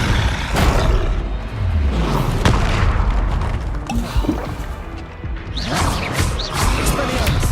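Explosive spell impacts from Bombarda and Confringo in Hogwarts Legacy, a series of booming blasts and crashes with magical whooshes, dense and loud throughout with a voice speaking over the combat.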